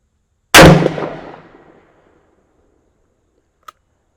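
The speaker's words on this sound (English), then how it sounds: "that compensator really tamed the recoil on these 357 Magnum loads" A 627 V-Comp revolver fires a single loud .357 Magnum round at a target. The sharp blast rings out and decays over about a second, followed by a faint click and then silence.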